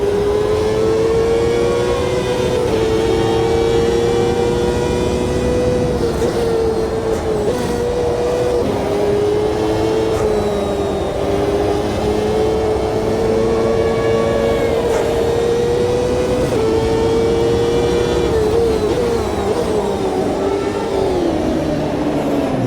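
A race car engine in the video game Automobilista 2 drones loud and high-revving, holding a steady whine with repeated brief dips and climbs as it shifts up through the gears, running alone throughout.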